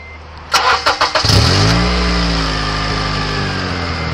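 A manual car with a suspected exhaust leak cranks with several quick chugging turns, catches, and settles into a loud, steady idle after a brief rise in revs.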